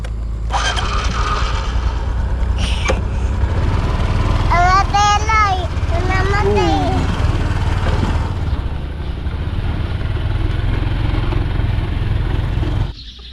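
Motorcycle engine running steadily throughout with a rider and passenger aboard, loud and close, with voices chatting over the motor and a brief clatter.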